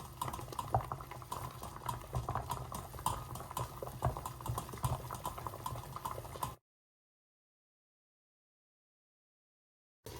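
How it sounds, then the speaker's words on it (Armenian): Nutella cake batter steaming over boiling water: water bubbles and simmers vigorously with a busy crackling patter, then cuts to silence before briefly resuming. "30 րոպե եփում ենք գոլորշու վրա"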